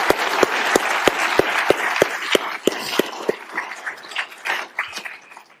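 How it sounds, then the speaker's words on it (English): At the welcome remarks of a Gurdjieff conference, an audience gives a round of applause, with sharp regular rhythmic clapping that later loosens into scattered, fading claps. "I want us all to take a moment to thank them heartily with another round of applause"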